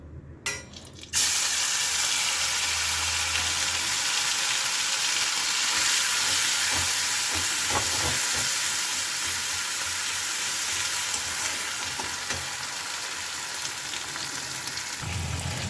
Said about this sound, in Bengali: এবার তেলের মধ্যে এই সর্ষে পোস্ত বাটাটা দিয়ে দেবো